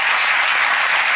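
Audience applause at a magic performance, a dense burst of many hands clapping loudly and steadily for about a second, close and alone without voices.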